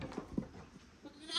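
Young lambs in a farm pen bleat faintly a few times, with short wavering cries among quiet shuffling and background noise.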